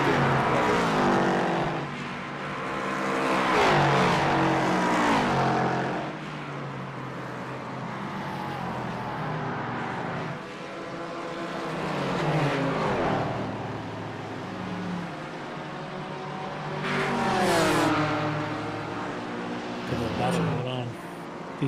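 Race cars, BMWs among them, lapping the Mosport circuit in a sim-racing game, engines rising and falling as cars rev and pass, under continuous commentary voices.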